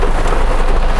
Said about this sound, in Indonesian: suasana suara hujan yang lumayan keras ini ya teman-teman